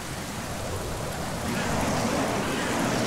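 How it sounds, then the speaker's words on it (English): Steady rain falls and hisses in a rainy Ocarina of Time town scene with burning buildings, a dense, even wash of drops that swells slightly louder partway through. "It's raining, but the buildings are still on fire."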